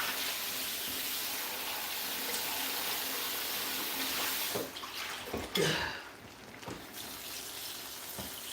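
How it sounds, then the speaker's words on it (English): Hot water poured into a seafood and pig tail stew, a steady gushing pour that runs for several seconds, then breaks into a few splashes and stops, close and fairly loud. "I'm just going to add hot water"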